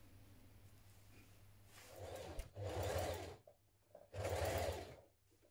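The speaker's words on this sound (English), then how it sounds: "we're going to stitch through all three layers" A sewing machine stitches a shirt-dress collar through three layers of fabric in two distinct runs, each about a second long, separated by a short pause, over a low steady hum.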